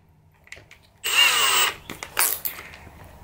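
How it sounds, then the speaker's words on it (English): A cordless drill driver fitted with a Milwaukee red helix drill bit whirs loudly and close for about half a second, then stops, followed by a few shorter bursts as the trigger is squeezed again. "If we put this in the drill driver,"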